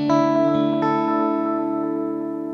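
An echo preset on a free audio effect plugin turns a sustained tone into a stack of repeating attacks that trail off with a long reverberant tail, moderately loud and steady with no voices.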